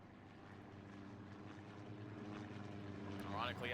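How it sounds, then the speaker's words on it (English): A plane engine drones steadily in the Hell Let Loose World War II video game during a tank battle, a low continuous hum that builds slightly, with a brief higher whine near the end and a voice faintly present. "that plane's being picked up by somebody."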